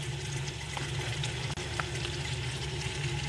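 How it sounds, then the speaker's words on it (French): Onions and meat frying in a little oil at the bottom of a pan, a continuous close sizzle and crackle that holds steady throughout. "Un peu d'huile au fond, vous allez faire revenir vos oignons avec la viande le temps d'un moment."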